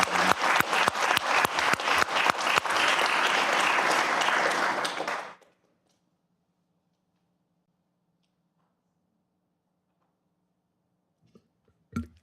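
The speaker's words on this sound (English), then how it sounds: "So let's give a round of applause to all of our employees who are retiring." Audience applause for retiring school district employees at a board meeting, a dense burst of clapping lasting about five seconds before cutting to near silence with a faint hum and a brief knock at the end.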